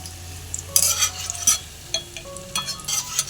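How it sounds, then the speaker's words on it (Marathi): Raisins fry in hot oil in a pan over low heat while making thin-poha chivda, a soft continuous sizzle broken by several close spoon scrapes and stirring knocks against the pan. "हे बघा किती मस्त असे आपले मनुके तळलेत"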